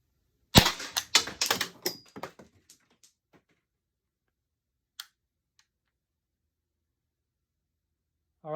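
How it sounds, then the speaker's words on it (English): A Pepperball TCP launcher firing Byrna kinetic projectiles: a rapid burst of sharp, loud snapping reports in the first couple of seconds, then a few scattered faint clicks and one isolated crack before near silence. "That was the first shot, and obviously the most powerful shot."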